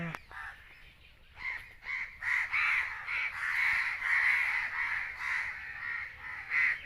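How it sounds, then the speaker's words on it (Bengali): Many crows caw together in a village, a dense, continuous chorus of overlapping harsh calls, some close and loud, others further off, with no pause between them. "কাকেদের মিটিং হইতেছে,"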